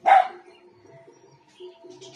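A black German Shepherd puppy gives one sharp, close bark, followed by faint whimpering and small yips at low level.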